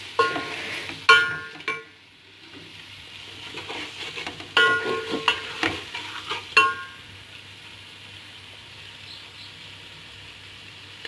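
Chicken fries and sizzles in a pan over low heat. A spoon scrapes and clatters against the pan in irregular bursts, and the soft sizzle continues between the strokes.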